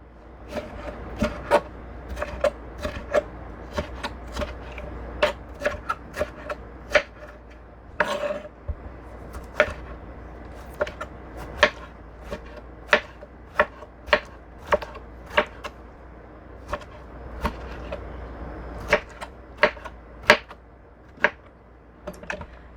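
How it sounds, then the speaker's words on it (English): Knife chopping tomato into small cubes on a cutting board for a Chinese fried egg and tomato dish, a long series of sharp, close knocks at a brisk, slightly uneven pace, with no talking. "we cut it into a little cube, not too small because after you cook it, it will become even smaller"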